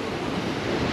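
Choppy Mediterranean sea at a harbour near Frejus, a steady broadband wash of waves mixed with wind rumble against the microphone, loud and continuous for the whole short stretch with no voices.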